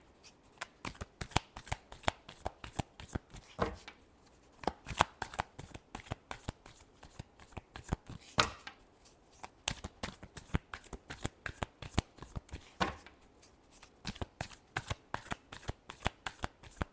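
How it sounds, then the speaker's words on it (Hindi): Tarot cards riffle and slap in a long, rapid, rhythmic shuffle, close and crisp, the repeated snapping strokes continuing almost without pause and no speech over them. "Last shuffle."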